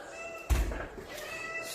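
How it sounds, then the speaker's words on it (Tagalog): A pet cat gives a short meow close by, mixed with a soft thump and light room noise. "alaga namin pusa."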